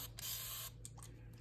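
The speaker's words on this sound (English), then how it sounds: "I'm going to spray this down with alcohol" A spray bottle gives a short hissing burst of alcohol onto a mushroom tub, followed by a couple of quicker faint spritzes, quiet and close.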